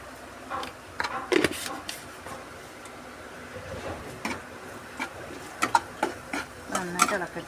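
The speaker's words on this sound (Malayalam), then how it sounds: "നന്നായിട്ട് ഇളക്കട്ടെ." Garlic pickle being stirred in plenty of oil, with irregular scraping and clinking strokes of a spoon against the pan in short bursts, moderately close and fairly quiet.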